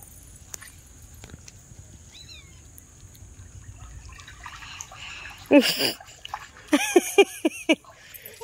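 A big catla fish thrashes in a heavy net hauled from a pond. A quiet stretch gives way to a loud burst of splashing, then a quick run of sharp, close splashes, with faint chirps in the background.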